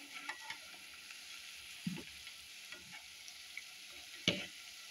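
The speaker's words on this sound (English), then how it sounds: "After about 1 minute of cooking, I started turning them like this so that they cook all round." Meatballs frying in very hot oil as they are turned, a faint continuous crackle and hiss with a few soft knocks and scrapes of the utensil, no talking.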